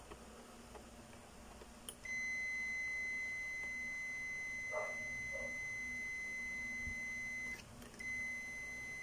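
A multimeter's steady continuity buzzer sounds continuously for several seconds while checking for a short in a Sharp unit, then briefly cuts out and resumes, over a faint background hum.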